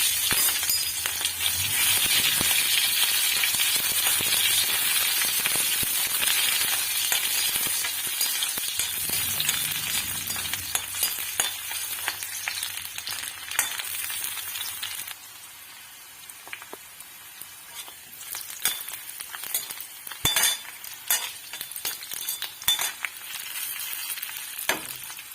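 Onion fries in oil in a heated wok, a loud close sizzle that fades to quieter crackling halfway through, broken by sharp scraping and stirring clicks. There is no talking.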